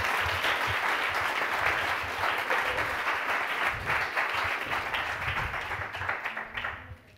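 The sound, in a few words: audience applause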